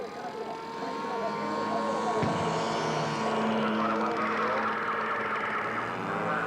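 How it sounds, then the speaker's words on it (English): A Japanese Zero fighter plane circling overhead as part of an outdoor expo display, its propeller engine droning loud and continuous with a rising, shifting tone, a brief thump partway through and voices faintly beneath. "Suddenly, a Japanese Zero is spotted overhead. The plane circles and sets up for a strafing run."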